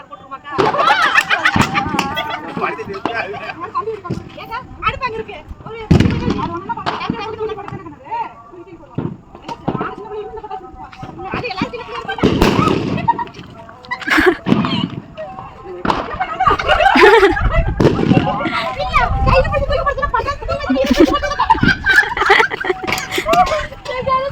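Diwali firework rockets burst in a rapid, irregular series of loud bangs and pops nearby, with people talking throughout.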